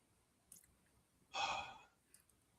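A man yawns once as he winds down after an adrenaline rush, a single soft breathy exhale lasting about half a second, faint and close, with small clicks around it.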